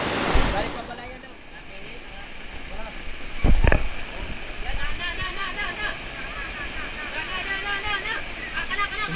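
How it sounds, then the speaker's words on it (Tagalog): Strong monsoon wind gusts during a typhoon batter the microphone with continuous rushing noise and occasional heavy buffets, while a voice speaks underneath. "La, lakas ng hangin."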